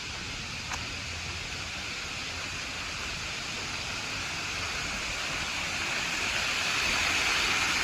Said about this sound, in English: Chocolate waterfall.